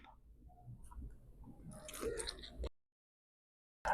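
Biting into and chewing a thin layered Egyptian feteer pastry filled with minced sausage, soft crunchy and squishy mouth sounds close up for under three seconds, then silence.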